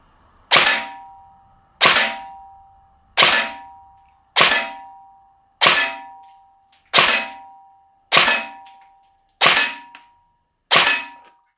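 Arcturus AK05 AEG airsoft rifle firing nine single shots at an even pace of roughly one per second, each a loud close crack with a short ringing tail, no talk.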